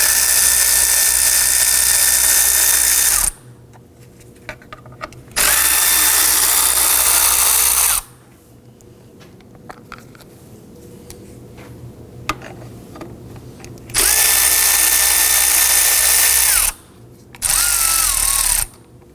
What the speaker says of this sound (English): Let's go ahead and remove our belt covers using a 10mm socket.